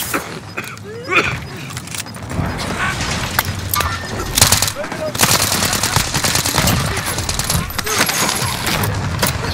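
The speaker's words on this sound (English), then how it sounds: "Someone shooting over here to my bottom left." Rapid bursts of gunfire crackle in a battle-royale style video game, loud sharp volleys and clattering shots with mechanical creaks, growing denser and more continuous in the second half.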